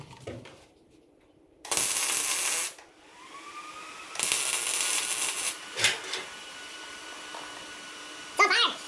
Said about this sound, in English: let's fire up the MIG welder and burn in a couple of spots here